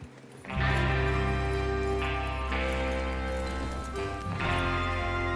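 Horse hooves clip-clop steadily in the video game Red Dead Redemption over a loud, sustained musical backdrop, the rhythmic footfalls partly buried under the music.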